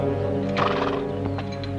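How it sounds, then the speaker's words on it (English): A horse whinnies loudly and nearby in a 1970 period drama, a shrill neigh rising mid-clip over a steady low hum, followed by a few light hoof clops. "You might fetch my horse."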